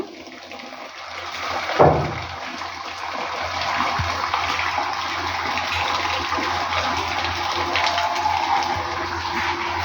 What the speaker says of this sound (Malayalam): വെള്ളം വീഴാൻ തുടങ്ങി